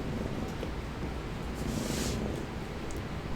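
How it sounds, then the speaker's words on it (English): A cat purrs close to the microphone, a soft, steady rumbling that continues evenly throughout at low volume. "He's purring loud enough that I can hear him through the headphones"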